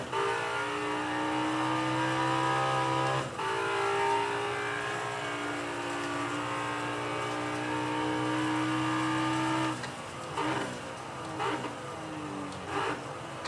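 Engine roar and tire noise from a racing video game played on a Logitech Driving Force GT wheel, a sustained revving tone that holds steady, drops abruptly mid-way and returns, then breaks into choppier bursts and squeals near the end.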